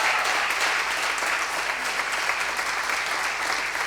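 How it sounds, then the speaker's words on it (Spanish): A church congregation breaks into steady, encouraging applause, a dense and even wash of many hands clapping together at moderate volume from start to finish. "¿Qué tal si les damos un aplauso de ánimo,"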